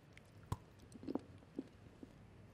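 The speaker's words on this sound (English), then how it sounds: "I don't like chewing so close to the mic." Japanese candy chewed right at the mic, giving a few soft, moist bites spaced about half a second apart over a low, steady background hum.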